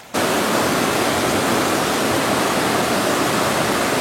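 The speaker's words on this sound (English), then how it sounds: "And from here I can listen the water." A waterfall in rainy season, its water rushing in a loud, dense, unbroken roar that starts abruptly and holds steady throughout, with no voices.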